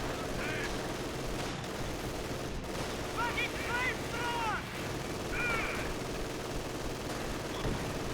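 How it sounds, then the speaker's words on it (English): A grenade goes off amid gunfire and battle noise in Company of Heroes 2, with muffled explosions and a few chirping effects over steady, dense combat sound. "That was a grenade. That hurt a lot too."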